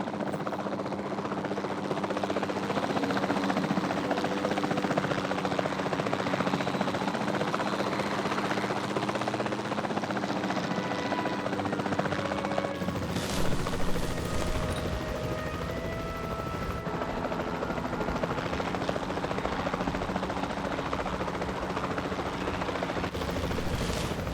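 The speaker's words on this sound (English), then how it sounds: "We'll start by tranquilizing one of the dinosaurs from the helicopter" A helicopter in the Jurassic World Evolution 2 video game drones steadily with continuous rotor noise throughout. The tone shifts partway as game effects layer over it.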